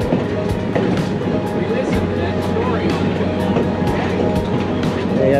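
A short passenger train ride at a steam festival, with a continuous loud rolling rumble and rattling wagon noise close around the listener and a few clicking beats over the track.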